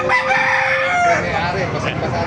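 A rooster at the Bocaue tiangge market crows loudly and close by, one sustained call over busy background noise.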